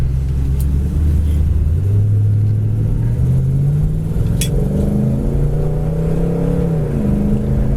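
A 1972 Buick Skylark GS with a 4-barrel engine and kick-down automatic transmission cruises down the road, its deep, steady rumble rising and falling in pitch as it accelerates, loud and close with no talking.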